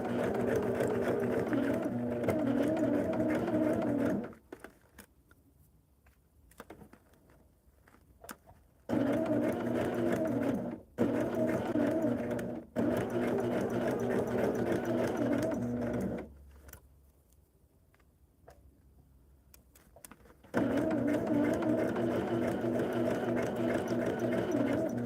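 Sewing machine stitching a double wedding ring quilt, running in several sustained bursts with near-silent pauses between them.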